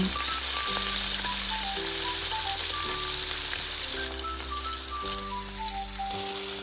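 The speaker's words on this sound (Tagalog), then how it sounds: "Dahil mainit na po yung mantika, lutuin na natin itong mga hipon natin." Continuous bright sizzling of shrimp frying in hot oil, with a steady melodic tune playing alongside.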